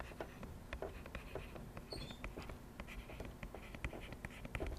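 Handwriting on a surface makes continuous scratchy, rhythmic strokes, faint and close, with no voice over them.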